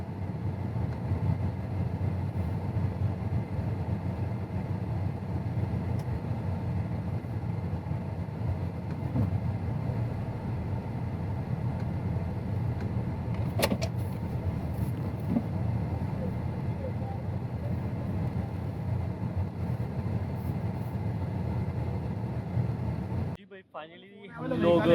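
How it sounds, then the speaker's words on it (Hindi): A car's engine runs in Dubai as it reverses, a steady low rumble heard from inside the vehicle for over twenty seconds before it cuts off abruptly with a brief disturbance at the end. "चलो जी, तो गाड़ी स्टार्ट करते हैं। अभी हम चलते हैं पीछे बैक की तरफ।"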